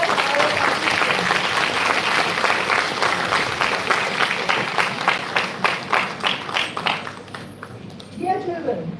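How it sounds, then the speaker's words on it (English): Audience applause for participants at a school English debate competition, loud sustained clapping from a large crowd that thins toward the end, with a voice speaking as it fades. "I would request the audience to give a hearty clap to all our participants."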